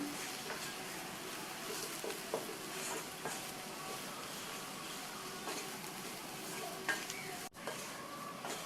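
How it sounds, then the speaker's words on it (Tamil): Potatoes frying in a pan as a roasted, ground spice powder is stirred in, a dense continuous sizzle with steady scraping of the spoon, close and even throughout. "நம்ம வறுத்து அரைச்ச அந்த பொடியை சேர்த்துட்டு நல்லா ஒன்றா கலந்து விட்டுறலாம்."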